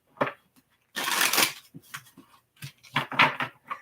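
Tarot cards are shuffled in short riffling bursts, one long flutter followed by several quicker broken shuffles, close and fairly loud.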